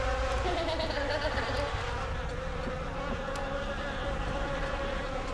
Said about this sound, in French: Il y a de plus en plus de mouches.